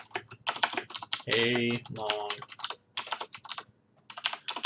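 Rapid clattering keystrokes on a computer keyboard in uneven bursts, close and crisp, with a voice briefly talking between them.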